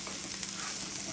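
Onions sizzle steadily in a frying pan as a spatula stirs them, a soft continuous crackle with no talking.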